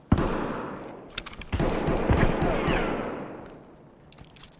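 Gunfire in Escape from Tarkov, with a sharp close shot followed by a burst of loud shots and a long rumbling echo that slowly fades, then a few faint cracks at the end.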